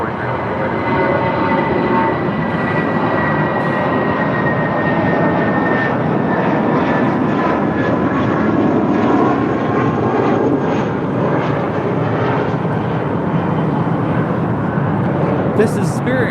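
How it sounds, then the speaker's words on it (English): A Spirit Airlines Airbus A320 departing, its jet engine noise a loud, steady broadband roar that holds for the whole stretch, with a voice talking over it. "This is Spirit Airlines 1043 departing to San Antonio on an A320"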